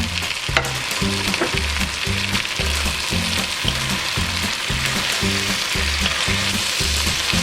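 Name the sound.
beef and bacon frying with onions and carrots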